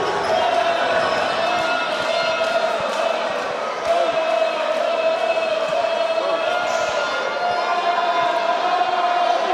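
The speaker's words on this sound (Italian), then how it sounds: "Sentiamo i tifosi senesi urlare e incitare i propri beniamini." Virtus Siena basketball fans in a Serie C gym shouting and cheering their players, a dense, continuous roar of crowd voices with sustained chanting tones, loud and filling the whole moment.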